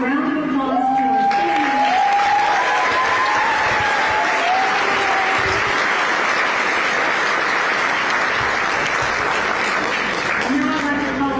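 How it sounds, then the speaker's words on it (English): An audience at a graduation ceremony gives a loud, sustained round of applause. Dense clapping fills about ten seconds, with a speaker's voice heard at the start and again at the end. "Please give a round of applause to our"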